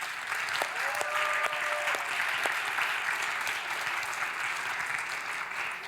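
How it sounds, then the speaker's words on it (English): An afternoon audience at an event gives sustained applause, a dense wash of clapping from many people that holds steady throughout, with a few faint tonal beeps early on. "Give them a round of applause."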